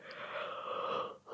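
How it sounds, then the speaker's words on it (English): A person yawns in one long, breathy exhale that swells and then trails off, close and fairly loud, with no talking. "Oh gosh, we're gonna yawn again."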